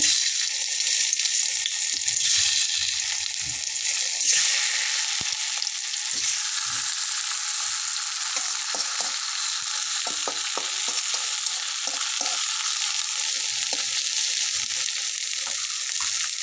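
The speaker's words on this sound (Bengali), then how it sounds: "এবার রসুনটাকে ভেজে নিতে হবে রসুনটা একটু সাইডে সরিয়ে সরিয়ে দিলাম আর এখন আমি টমেটোটা দিয়ে নেবো" Garlic and tomatoes fry in a pan for a hotel-style Bengali tomato bharta, giving a steady, loud broadband sizzle throughout with occasional soft stirring scrapes and no talking.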